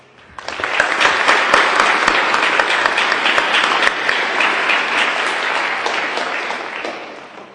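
Sustained audience applause fills a high school graduation ceremony, a dense, steady roar of many hands clapping at once, loud and unbroken for several seconds before starting to fade.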